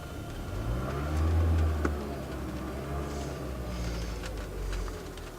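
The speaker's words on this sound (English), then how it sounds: "So you can tell the electric engine has kicked on." Electric motor of a 2012 Lexus CT200h hybrid starting up: a low steady hum with a faint whine that rises briefly and settles, quiet cabin ambience, no speech.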